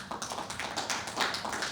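A room full of conference attendees applauds in a short, dense burst of clapping, steady and fairly loud throughout.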